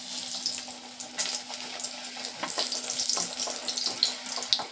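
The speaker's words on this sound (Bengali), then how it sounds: "তেলটা দিয়ে মাছটাকে আমি ভালো করে ভেজে নেব।" Fish frying in about fifty grams of hot oil in a pan for a Persian-style fish curry, a steady close sizzle and crackle with small bursts, no voices.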